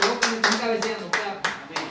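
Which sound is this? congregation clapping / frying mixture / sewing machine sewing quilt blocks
congregation clapping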